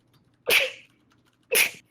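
Two sharp sneezes about a second apart, close and loud, with near silence around them.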